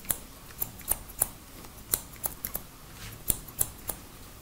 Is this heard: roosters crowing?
no